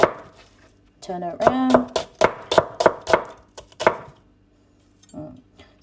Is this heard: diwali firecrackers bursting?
no